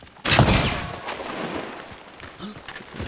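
A crossbow in the game Hunt: Showdown fires a shot bolt: a sudden sharp twang and whoosh, followed by a rumbling impact and fading background game noise.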